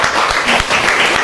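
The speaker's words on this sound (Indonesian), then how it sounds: "Tepuk tangan untuk kelompok 4." Students in a junior high school classroom applaud a presenting group, a brief burst of steady, fairly loud clapping filling the room.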